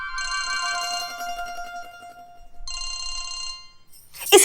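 A telephone rings in two electronic bursts separated by a short pause, loud and close, ending in a sharp noise.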